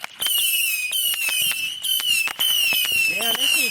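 Fireworks exploding outdoors at night, a rapid string of sharp loud pops and crackles with whistling shrieks running over them, going off one after another without pause.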